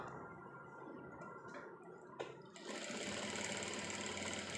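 Sewing machine stitching fabric for a handmade purse, a quiet mechanical whirr that starts after a few faint clicks and then runs steadily to the end, with no talking.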